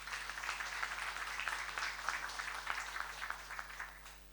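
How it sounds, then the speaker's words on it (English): A gathering applauding itself after a welcome to the house, faint and steady clapping from many hands that thins out toward the end, with a low electrical hum beneath. "may you give yourselves a round of applause."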